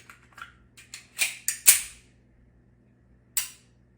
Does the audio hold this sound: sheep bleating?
no